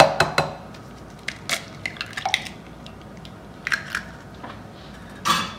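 Vanilla and an egg are whisked by hand in a bowl: scattered light clinks and taps of the whisk against the dish, with a wet stirring texture between strokes and a louder clatter at the end, no talking.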